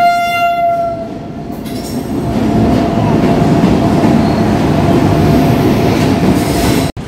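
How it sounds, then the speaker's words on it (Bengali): A WAG9 electric locomotive from the Aligarh shed hauls a fully loaded freight train past, heard close and loud as a steady rumble with a sustained horn blast at the start and continuous wheel and wagon noise. "সামনে চলে এলো WAG9, যেটি আলিগড় শেডের একটি ফুলি লোডেড মালগাড়ি"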